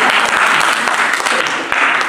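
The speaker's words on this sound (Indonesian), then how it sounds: "Kalau tepuk tangan jangan tanggung-tanggung" Loud, full applause from a church congregation, many hands clapping together in a thick, continuous roar that stays steady from start to finish.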